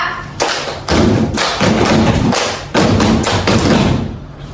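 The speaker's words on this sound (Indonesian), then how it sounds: "Nah, selanjutnya coba saya mau tahu tepuk BK." An audience performs the BK clap, a rhythmic group clapping pattern, in a classroom or seminar: loud, dense bursts of many hands striking together in repeated phrases, with short pauses between groups and no talking.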